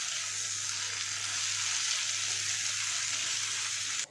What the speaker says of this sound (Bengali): খুব ভালো করে নাড়াচাড়া করে নিচ্ছি